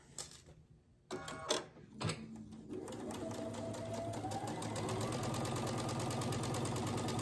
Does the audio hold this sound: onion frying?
no